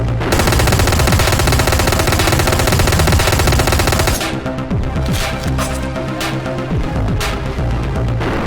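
Rapid, dense gunfire from the coach gun in the top-down shooter Hotline Miami 2 blasts continuously, then breaks into separate, punchy shots.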